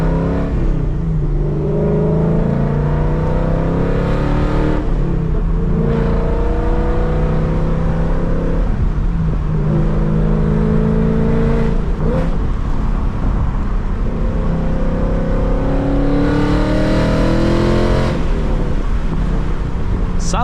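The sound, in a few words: Mustang V8 engine revving with headers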